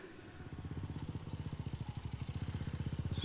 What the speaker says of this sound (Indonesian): Suara motor siapa, Gun?